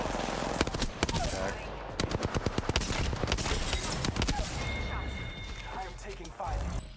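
Rapid gunfire in Apex Legends with the Hemlok rifle: many sharp close-range shots in quick bursts and volleys that continue throughout, mixed with other game sounds and some talking.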